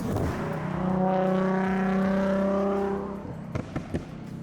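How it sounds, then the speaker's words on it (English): A Nissan 350Z with a catback exhaust gives a deep, steady rumbling note that swells and holds for a few seconds, then drops to idle with a few short pops. "Nothing makes a car enthusiast smile more than a good exhaust note"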